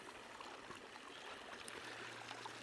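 Water pouring over the top of a farm dam makes a steady, faint rushing wash, continuous and even with no voices.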